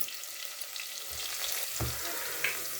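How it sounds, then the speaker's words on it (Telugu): Onions and mutton fry in hot oil, giving a constant crackling sizzle close up, with a few soft thuds from stirring. "నూనె గరం అయినాక మొత్తం ఉల్లిగడ్డ వేసేసుకొని అది మంచిగా ఎర్రగా దాకా వేడి చేయాలి."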